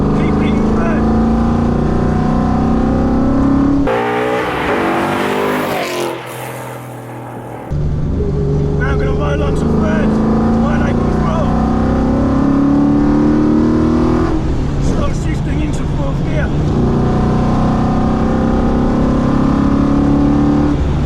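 Coyote-swapped Fox Body Ford Mustang with about 12.8:1 compression and 470 wheel horsepower accelerating hard through the gears, a loud V8 roar that rises in pitch, drops briefly at a shift, then climbs again, with someone talking over it.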